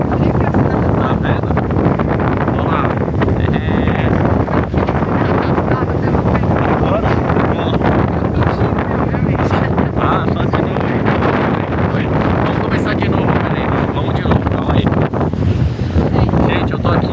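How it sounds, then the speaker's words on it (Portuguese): Strong wind buffets the microphone on an open upper deck at a seaside resort in Punta Cana, a loud, steady roar that fills the whole clip with gusty rumbling and no clear voices. "Nós estamos num deck aqui em cima, mas tá uma ventania."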